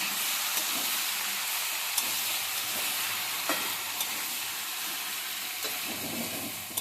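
Small new potatoes frying in a pan with chopped tomatoes for mustard potato fry, a soft continuous sizzle with occasional light spoon taps as the mix is stirred, faint and close.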